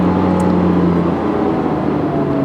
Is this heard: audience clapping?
no